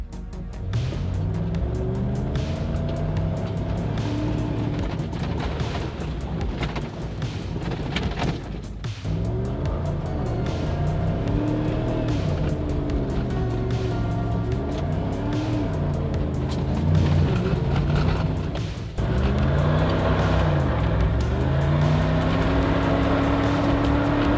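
A 1997 Jeep Cherokee grinds off-road through mud, its engine droning steadily with rising and falling revs across the whole stretch, close and loud, with brief dips where the throttle eases.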